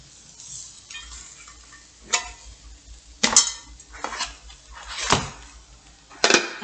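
A spoon knocks and scrapes against a pan in several separate bursts, short metallic clinks with quiet pauses between them, close by and with no talk.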